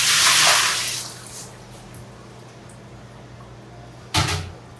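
Cold brew coffee is poured out of a vat during cleaning, a steady wash of liquid that runs for over a second, tapers off into quiet, then ends with a short knock near the end.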